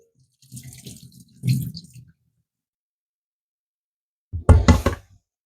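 Fresh nettles are rinsed by hand in a pot of water. The water gives short, close sloshing splashes in three bursts, with quiet gaps between them.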